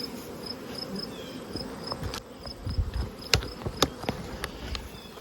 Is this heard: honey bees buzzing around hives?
yes